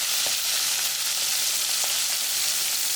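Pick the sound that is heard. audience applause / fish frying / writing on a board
fish frying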